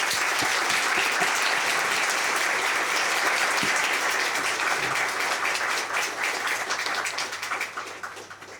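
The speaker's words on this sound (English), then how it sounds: "please give your special applause to all panelists" Sustained audience applause for the panelists at the close of a seminar on the future of international civil aviation, dense and even clapping that holds steady before gradually thinning and fading out.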